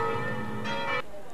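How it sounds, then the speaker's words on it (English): Church bells ring across the city of Florence, a brief tonal peal with sustained ringing overtones heard at moderate distance, a second strike layering in before the sound cuts off. "Bell's ringing in it."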